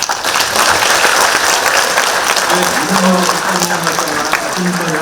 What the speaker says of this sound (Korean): 우리 모두 다 같이 완성 촉구하는 박수를 치면서 마치겠습니다